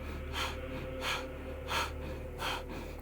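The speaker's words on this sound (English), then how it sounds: "bring them overhead for breath of fire. So it's in and out through the nose" Breath of fire in a yoga chakra session, pumped in and out through the nose: four rhythmic, forceful nasal breath bursts, evenly spaced about two-thirds of a second apart, close and fairly soft over a low steady hum.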